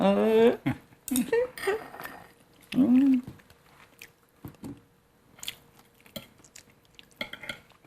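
A couple in their sixties eat braised cutlassfish at a table: soft chewing and quiet clinks of cutlery on dishes, with a person talking at the start and a few scattered taps and bites afterward.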